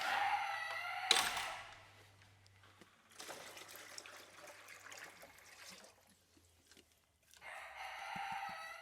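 A rooster crows close by, then chickens cluck and murmur, with running water in the background and a second crow near the end.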